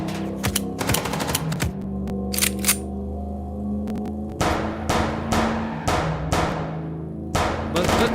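Rapid bursts of gunfire from the Chicken Police video game, loud repeated volleys of shots with short pauses between clusters, no talking.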